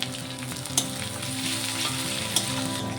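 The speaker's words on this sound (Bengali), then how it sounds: "সব কিছু একটু ভেজে নেব।" Onion and green chilli frying with garlic paste in a pan give off a steady, bright sizzle, broken by two sharp taps of a stirring utensil.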